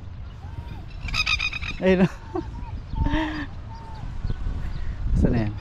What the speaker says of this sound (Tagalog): Magaling ibon na to ah.